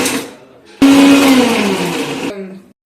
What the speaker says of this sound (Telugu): జస్ట్ కొన్ని వాటర్ని యాడ్ చేసుకొని మిక్సీ పట్టేసుకోవాలి